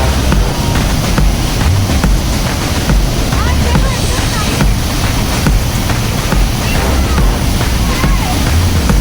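The Rhine Falls waterfall on the Swiss border thunders in a steady, loud, broadband roar with spray and wind buffeting the microphone throughout, unbroken and close.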